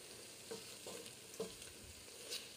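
Goat meat kabsa with black lemon, onion, garlic and tomato is stirred in a pot, giving a quiet bed of frying and a few soft, evenly spaced spoon scrapes.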